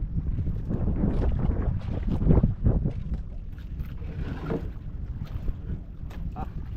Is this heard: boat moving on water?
yes